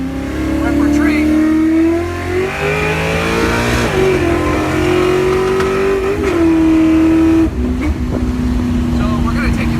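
A Ford Mustang's 302 V8 engine running loud and close, with a deep, steady rumble whose pitch rises and falls several times as it revs, and voices talking over it.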